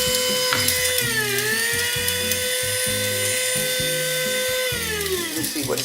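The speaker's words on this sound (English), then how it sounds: "this is the same grinder I use for my pimento seeds, my whole pimento seeds." An electric spice grinder whirs steadily as it grinds whole pimento seeds for jerk chicken, a continuous loud high-pitched motor whine that dips slightly in pitch partway through as the load shifts, running alone for about six seconds.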